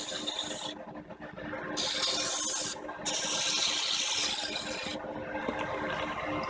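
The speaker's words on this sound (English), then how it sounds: "Just going to move it around, make sure I can spray everything and get it all." Steady hissing spray of liquid onto a Kenworth W900 truck's engine and frame runs continuously, with brief dips and surges as the stream is moved around, over a constant rough mechanical background.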